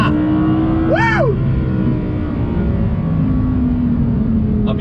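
An Audi R8 being driven hard, its engine droning loudly and close, with a rising-then-falling tone as it shifts through a turn and a brief burst near the end, no talk.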